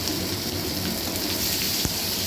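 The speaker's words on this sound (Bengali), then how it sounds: "একটু পেঁয়াজ ভেজে নেব।" Onion frying in hot oil with whole cumin and chilli tempering for a chana dal, giving a dense, steady sizzle and crackle throughout at moderate level.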